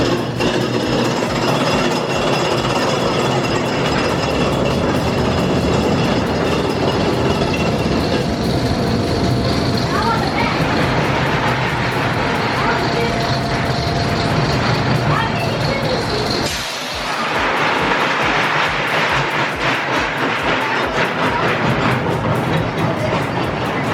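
Wilderness Run, an E&F Miller kiddie roller coaster, rattles and rumbles loudly and steadily along its track with a brief dip near the end, under faint voices.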